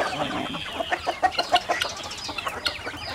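Chickens, including Bengal fowl, cluck in quick, irregular bursts at close range while being fed corn at morning feeding, a busy flock chatter with no talking.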